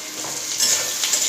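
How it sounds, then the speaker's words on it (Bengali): Onion sizzles in a hot pan while being cooked for chicken kosha, a steady, close crackling hiss over a brief moment with no voices. "তো এর মধ্যে পেঁয়াজটা এবার দিয়ে দেবো"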